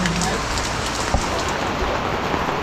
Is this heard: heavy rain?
yes